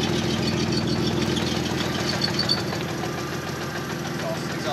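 An idling 2007 BMW 328i engine with a steady, rhythmic knocking from the exhaust tapping beneath the running motor, close by, with a voice talking over it.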